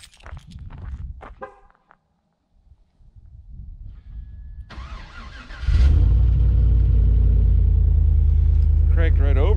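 A truck engine cranks over briefly in cold, snowy weather and then catches, settling into a loud, steady idle close by after a few quiet seconds and scattered knocks.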